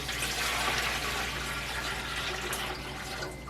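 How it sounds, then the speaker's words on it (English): Water pours steadily into a canner pot, a full splashing gush that starts loud and tapers slightly toward the end. "I'm going to start by pouring a gallon of water in it at the beginning."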